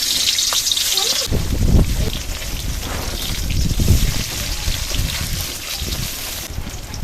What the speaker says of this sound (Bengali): কড়ার মধ্যে সরষের তেল দিয়ে আগে পনিরগুলো ভেজে নেব